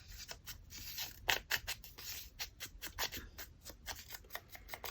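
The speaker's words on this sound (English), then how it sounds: "We can always trim it." Scissors trim torn paper while an autumn journal is being decorated: a quick series of crisp, close snips and rustles, some faint and some sharper, with no voices.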